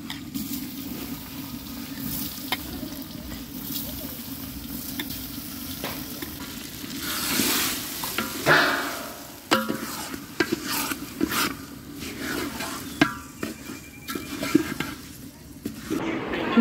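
A large pot of pilau made with 3.5 kg of rice being stirred as it cooks, a soft continuous sizzle and scraping with intermittent clinks of the spoon against the pot, louder bursts partway through.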